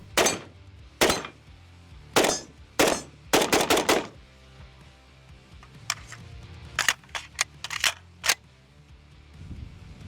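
Handgun with a downward recoil fired repeatedly at a range, sharp close shots in uneven groups: a few spaced single shots, then a quick burst, a pause, and a second string of rapid and spaced shots.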